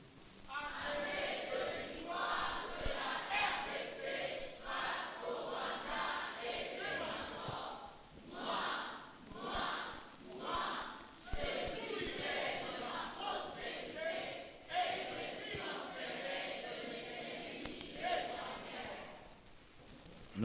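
A church congregation cheers and acclaims in a loud, sustained crowd roar that rises and falls in waves over about twenty seconds.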